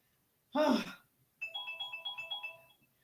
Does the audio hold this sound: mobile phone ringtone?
yes